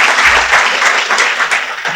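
Audience applause for a speaker at a Gujarati motivational talk on books, steady dense clapping from a crowd filling the room at an even loudness throughout.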